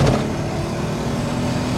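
A turbocharged, built 3.0-litre VR6 Volkswagen Corrado pulling hard under acceleration, a steady loud engine drone heard from inside the car.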